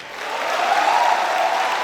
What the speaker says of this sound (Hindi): एक बात सारे लोग आगे से पीछे तक इसरो के लिए जोरदार तालियां बजाएं